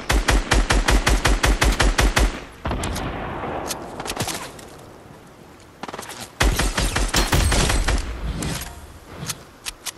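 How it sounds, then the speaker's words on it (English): Rapid automatic gunfire from the video game Fortnite, loud, close bursts of shots at the start, a pause, then another heavy volley of fire. "People are shooting at me."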